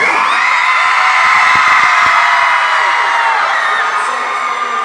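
Energetic live-show audience cheering and screaming, a loud, dense wall of high-pitched shrieks and whoops sustained throughout with a few claps near the middle.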